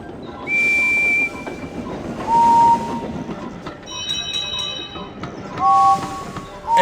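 Henry's steam engine whistle from the Thomas and Friends game Trouble on the Tracks: short, clear toots repeat over a chugging rail rhythm, interspersed with brief bursts of steam.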